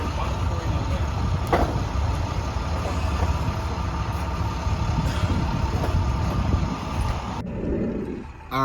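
Car interior on the drive home with furniture aboard, a steady low road and engine rumble with wind noise running throughout, ending in a sudden drop to quiet.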